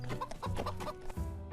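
Busy clucking from several chickens, overlapping short calls that keep going without pause, fairly close and steady.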